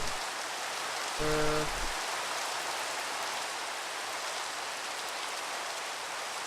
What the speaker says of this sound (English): Oh, thank God, rain.